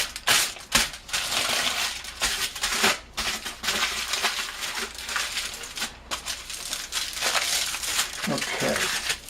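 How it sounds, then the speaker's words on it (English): Tin foil is crumpled and folded around pork for a double wrap, giving continuous loud, close crinkling and crackling with sharp bursts throughout, while a voice talks intermittently over it. "So we're going to go with another piece of tin foil. We're going to do a double wrap on this."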